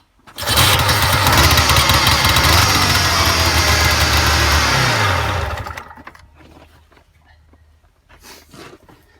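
An old engine that sat for years runs after a cold start at -32°C, a loud, rough, steady roar for about five seconds before it winds down and cuts out, leaving near silence.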